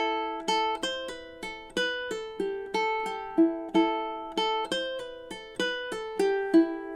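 A lone ukulele plays a bright, steady riff of short, evenly spaced plucked notes with quick decays, close and clear with no talking.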